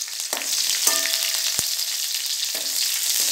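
Bay leaf and cashews frying in oil in a pan, a steady close sizzle with a few sharp crackles and pops throughout.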